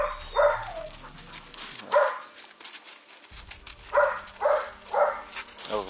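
A pit bull or wolf-like dog giving a series of short, close barks and yips, about five sharp bursts spaced through the moment, mixed with a person talking.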